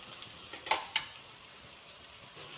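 Onions with ginger garlic paste sautéing in a pan toward dark brown, a quiet steady sizzle broken by two brief stirring scrapes near the start and a soft tap toward the end.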